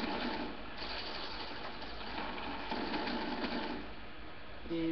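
Death Machine minigun in the Black Ops 2 multiplayer game, a continuous rapid mechanical whirring rattle of spinning barrels, steady and moderately loud, with no talk.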